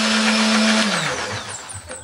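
A kitchen blender grinds shallots, garlic, chili and a little water into paste, its motor whirring loudly and then winding down as it stops, with no talking.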